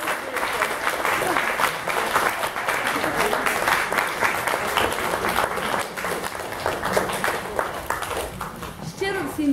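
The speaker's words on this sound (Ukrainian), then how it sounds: "всім щиро дякую за гарні оплески" Sustained audience applause fills a hospitality festival hall, dense steady clapping from a large crowd throughout, with a voice briefly emerging near the end.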